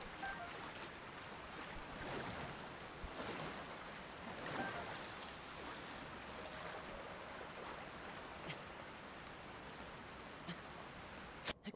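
A waterfall in the game Zelda: Tears of the Kingdom gives off a soft, steady rushing wash like distant surf that holds level and quiet throughout, with no one speaking.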